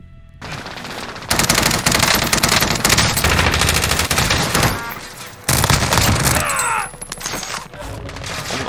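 Loud, sustained automatic gunfire bursts and single shots from the Call of Duty Warzone video game, Cold War season, in rapid fusillades broken by short lulls.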